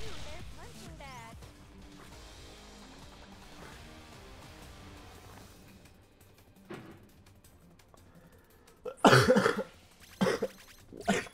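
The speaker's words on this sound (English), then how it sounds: "I know I just coughed" A few loud, close coughs come in quick bursts near the end, after quieter game sounds and music.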